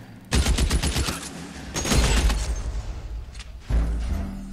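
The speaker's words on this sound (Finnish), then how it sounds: "Mä ammuin kaveri selkään." Gunfire in the video game L.A. Noire: a rapid volley of close, loud shots, a pause, a second burst with booming echo, then a heavier thump near the end.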